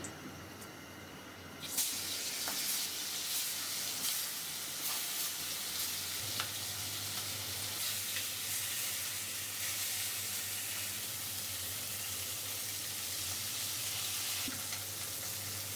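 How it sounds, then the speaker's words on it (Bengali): Mustard oil crackles and sizzles in a hot pan, a steady close frying hiss that begins abruptly after a quieter opening and runs on with light stirring scrapes. "কড়াই গরম হয়ে গেছে, দিয়ে দেবো সরষের তেল।"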